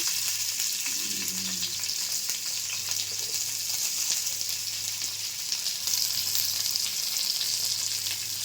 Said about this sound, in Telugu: ఫస్ట్ ఇవన్నీ వేసుకొని బాగా వేయించుకోవాలండి